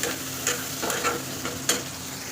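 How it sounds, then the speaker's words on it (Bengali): Onions fry and get stirred in a pan at home, a steady close sizzle broken by a few sharp scraping strokes of a spoon, with no talking. "এগুলো পেঁয়াজগুলো ভাজা করছি"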